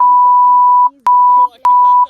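Loud censorship beeps cover swearing in a vlog. Three steady sine-tone bleeps sound in quick succession, each cut off sharply, and muffled speech shows faintly beneath them.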